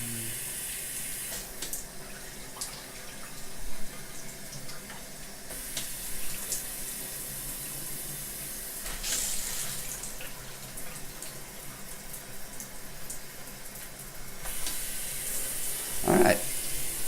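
A newly installed shower head sprays water through its different modes, giving a steady soft hiss of falling water whose texture shifts a few times, with faint clatter and handling sounds mixed in.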